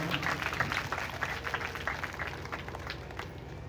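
An audience at a Bhagwat katha religious gathering claps in a dense, steady patter of applause that carries on evenly for a few seconds, heard from some distance.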